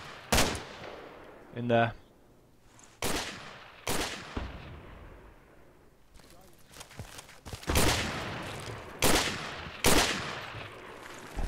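Rifle fire in the military shooter Project Reality, on the Kozelsk map near a bridge and forest, arriving as loud, sharp cracks with long rumbling tails, spaced a second or two apart, while someone briefly speaks.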